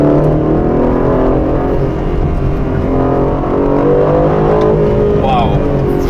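An Aston Martin DB12 with a 680 hp engine accelerating hard through the gears, a loud, close engine roar rising in pitch with brief shifts, heard from inside with road noise.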